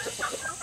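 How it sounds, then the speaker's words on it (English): Chickens cluck softly in short murmuring bursts, several birds close together over a steady background hiss. "So we have all these chickens"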